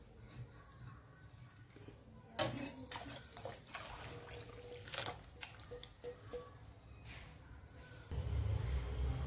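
Full cream milk poured into an iron kadhai for making peda, a soft liquid splash and trickle with a few clinks, close up, ending in a fuller rushing pour.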